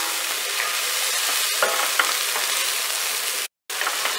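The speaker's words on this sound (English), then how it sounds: "I'm gonna just continue to stir for about another 2 minutes" Curry goat fries in a pan with a steady, close, bright sizzle while a utensil stirs it, adding faint scrapes and taps, with one brief silent gap near the end.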